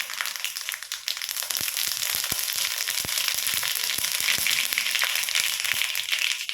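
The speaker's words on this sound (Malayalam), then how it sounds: "എണ്ണ ചൂടായി വന്നിട്ടുണ്ട് ഒരു ടീസ്പൂൺ കടുകിട്ടു" Mustard seeds splutter in hot oil, continuous hissing with many sharp pops and crackles, dense and close, going on throughout without any voices.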